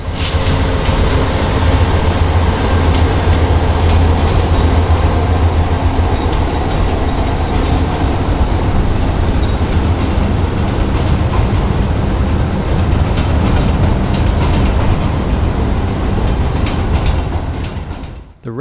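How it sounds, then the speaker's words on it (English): An inbound VIA Rail train hauled by a P42 locomotive with Renaissance cars rolls into Montreal's Gare Centrale, a loud, close, continuous rumble and clatter of wheels filling the whole stretch before fading at the end. "an inbound VIA Rail train using a P42 and Renaissance equipment comes into the station"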